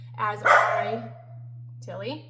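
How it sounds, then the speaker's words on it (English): Dogs bark in a couple of sharp, close bursts indoors, the second fainter with a slight whine, over a steady low electrical hum, while a voice speaks briefly. "sorry for my dogs"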